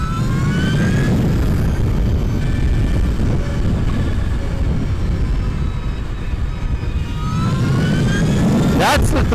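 Energica Eva electric motorcycle pulling away under throttle on a road, a rising electric whine over heavy wind rush that stays loud and continuous, with a rider's voice faintly present.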